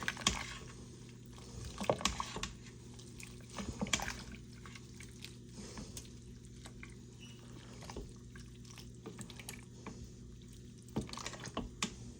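A spoon stirs wild rice soup in a pot, giving faint liquid swishing broken by intermittent soft scrapes and knocks against the pot, with no talking.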